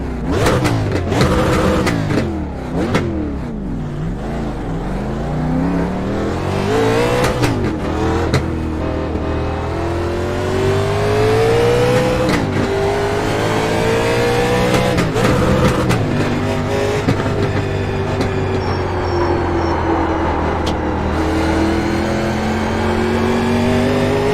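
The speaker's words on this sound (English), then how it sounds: "I've never heard a race car sound better than this." A race car engine in the iRacing sim revs loudly and continuously on cold tires, rising and falling in pitch through gear changes as it accelerates, with no voices over it.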